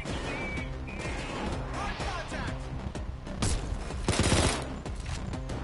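Enemy shotgun blasts in the heist shooter game Payday 2 come as a fusillade of hard, crashing reports and smashing impacts. A louder cluster near the end sits over busy, dense game noise.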